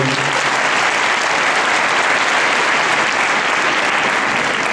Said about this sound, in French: La photo et vos applaudissements à nouveau pour Léna Desormeaux.